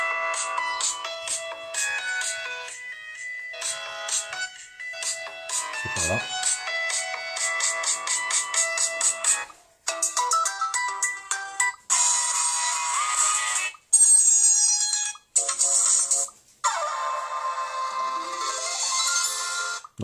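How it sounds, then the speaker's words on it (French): A bright electronic ringtone from an Elephone A4 phone plays several melodic jingles in turn, loud and close, with short gaps between tunes and a brief spoken word. "sonnerie du téléphone"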